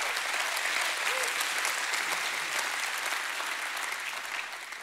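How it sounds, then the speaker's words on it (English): A church congregation claps hands together in a steady, full round of applause, broad and sustained throughout, easing slightly toward the end. "Give God a great hand clap"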